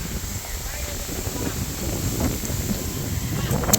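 Steady wind roar buffeting the microphone, a low rumbling gusty noise throughout with faint voices in the background.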